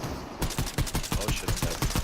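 Rapid bursts of gunfire from the video game Crysis 2, sharp repeated shots in a fast regular rhythm, loud and close throughout.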